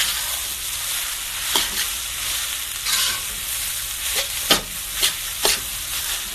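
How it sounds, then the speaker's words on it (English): Egg and rice frying in a pan, stirred and chopped with a metal spatula: a steady hot sizzle broken by several sharp scraping clacks of the spatula against the pan, with no voices. "So I just like to cut it up a little bit with my shovel and start mixing it."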